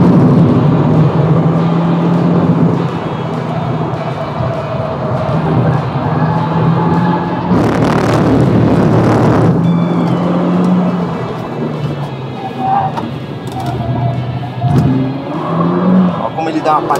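A Peugeot 208 GT accelerates and corners on a race track, its engine note climbing and falling with gear changes and a burst of louder roar and rushing noise, while someone talks excitedly over it from inside the car.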